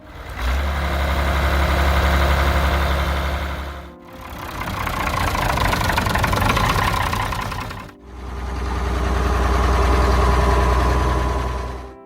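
Oliver 1850 farm tractor engine idling in three steady stretches, a loud, low diesel rumble with a knocking undertone, separated by two short breaks, with no voices.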